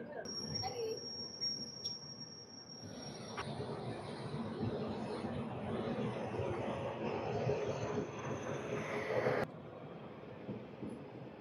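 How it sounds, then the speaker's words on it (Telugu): Express train 17221 rolling out of Kakinada Port station, a steady broadband rumble of wheels and carriages building as it departs, with a faint high tone early on and an abrupt drop near the end. "మన ట్రైన్ 17221 అయితే స్టార్ట్ అయిపోయింది ఎగ్జాక్ట్గా ఆన్ టైం 9కి."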